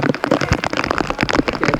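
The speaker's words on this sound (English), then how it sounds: "Once again, the rain coming down here at Salford," Rain patters steadily and loudly on a nearby surface at a football match at Salford, a dense spatter of close drops with no voices.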